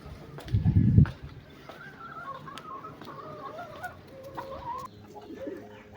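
Several hens cluck and murmur close by in a steady, busy chatter, with a brief muffled rustle near the start.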